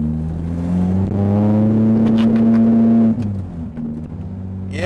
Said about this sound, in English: It's a bit of a shudder when you really give it a good throttle burst.